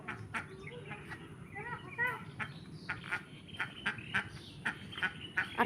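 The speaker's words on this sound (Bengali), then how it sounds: "আর একটা হাঁস দেখো প্যাক প্যাক করছে এইদিকে, ওর সঙ্গী হারা হয়েছে" A lone duck, separated from its flock, quacks repeatedly in short bursts against a steady outdoor background with frog-like croaks and other bird calls.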